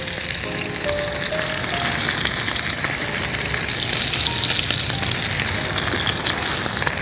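Seasoned steak sears in a hot frying pan, making a loud, dense, continuous sizzle right up close that stays constant throughout with no talking.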